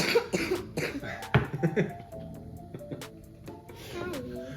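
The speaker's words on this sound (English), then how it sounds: "We keep coughing. We're getting over a cold." Several short, harsh coughs from someone getting over a cold burst out in the first couple of seconds, close by, followed by quieter background sound.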